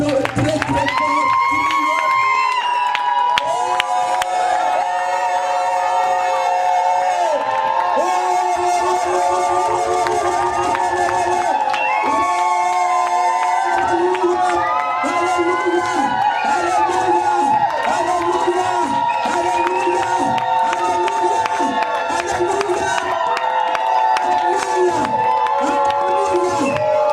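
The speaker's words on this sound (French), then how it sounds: "Acclamons très très fort" A church congregation cheers and acclaims loudly for nearly half a minute, a dense sustained roar of voices with whoops and shouts rising over music, all at full volume.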